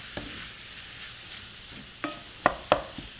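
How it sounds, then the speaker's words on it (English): Italian sausage frying in a pan while being broken into crumbs: a soft, even sizzle punctuated by a few sharp spatula knocks and scrapes, two louder ones near the end, heard close with no voices. "I try to crumble this as much as possible"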